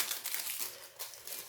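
Plastic film crinkles and rustles in quick, close bursts as a canvas is unwrapped, crisp and fairly soft, with no voice over it.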